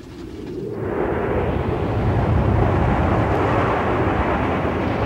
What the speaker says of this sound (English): A sudden gust of wind blew through the Indus Ravine.